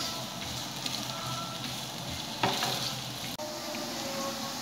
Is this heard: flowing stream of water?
no